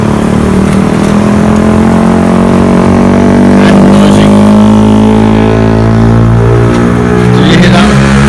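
Steady, loud road traffic roar on the Sturmont Arches Bridge in Haverhill, engines droning and vehicles rushing past continuously, no pauses, close by.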